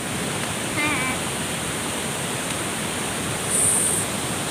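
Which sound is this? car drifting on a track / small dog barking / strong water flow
strong water flow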